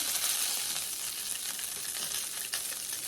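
Wine hits a hot roasting pan holding a golden-brown turkey, giving a steady bright hiss and crackle of sizzling throughout, close and fairly soft.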